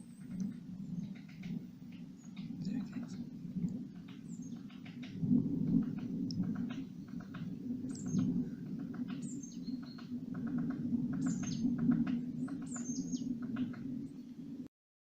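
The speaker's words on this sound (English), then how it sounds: "Just come across a woodpecker." A woodpecker in woodland beside the River Bovey near Manaton, Devon, gives faint, scattered chirping calls over a steady low rumble of background noise.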